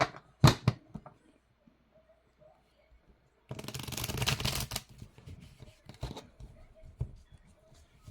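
Deck of tarot cards being shuffled during a live card reading, a brisk riffling burst of about a second after scattered soft clicks and handling taps, with faint voice sounds nearby.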